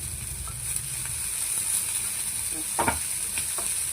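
A steady, close sizzle of poha (flattened rice) frying in a pan, with a few soft scraping stirs near the end.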